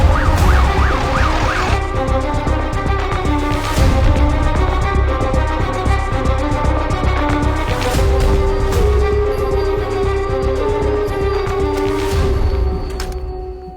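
An ambulance siren wails loudly and close in a film scene, with a rapid warbling pattern and a continuous rising and falling tone running throughout over traffic noise.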